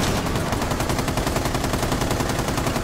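Sustained light machine gun fire in a Rainbow Six match, a dense, continuous rattle of rapid shots holding steady and loud for nearly three seconds with no pause.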